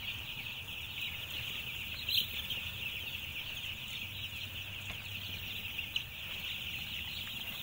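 Chickens on a poultry farm with a heater and brooding blocks, a steady hum of the flock under continuous farm noise, with a few faint sharper calls standing out and no speech.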